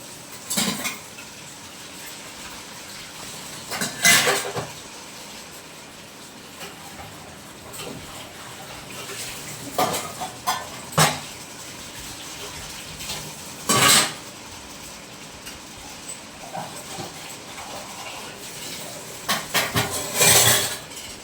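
Dishes and pots clatter and clink in a sink in intermittent bursts, with water and scrubbing sounds in between.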